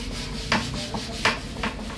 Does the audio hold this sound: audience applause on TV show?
no